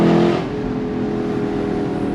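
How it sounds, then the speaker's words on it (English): A 2024 Lexus LC500 Bespoke Edition's V8 gives a brief rev, its loud burst settling into a steady, throaty engine drone nearby. "It sounds like an IMSA WeatherTech GTD Lexus race car."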